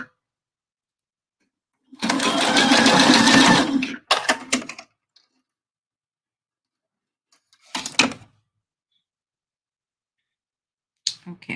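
Sewing machine stitching fabric coasters, with one sustained two-second run of stitching, then a few short bursts separated by silence, close and fairly loud with no talking.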